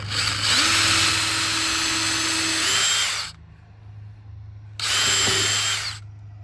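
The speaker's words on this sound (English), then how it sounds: "I'm going to pre-drill the holes that are marked" A power drill pre-drills holes for a door jamb repair and reinforcement kit, whining steadily for about three seconds, stopping, then spinning up again briefly for another short burst, close and loud.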